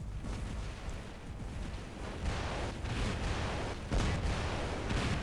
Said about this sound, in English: I think they have someone firing tridents or something